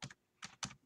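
An email address is typed on a computer keyboard: three short, close bursts of clicking keystrokes separated by brief pauses, quiet and with no voices.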